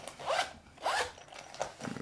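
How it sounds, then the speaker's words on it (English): Zipper on a black canvas Cyberpunk V3 EDC pouch pulled in three quick, close strokes, each a bright rasping zip, with the last one softer and shorter. "we have one side here with a pretty nice zipper"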